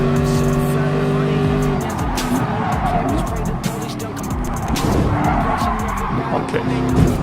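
A Chevrolet race car in the video game Gran Turismo Sport whines loudly with shifting engine tones alongside repeated tire squeals and skids, while someone talks over it in French.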